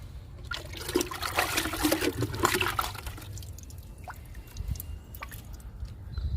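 Homemade leaf-based liquid fertilizer is poured onto an adenium plant, a steady splashing, trickling flow of water close by, with brief drips and small knocks toward the end.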